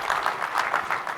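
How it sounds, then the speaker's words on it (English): A keynote audience at an affiliate marketing summit claps, a short stretch of applause with a faintly pulsing, even texture. "Let's give them a round of applause again"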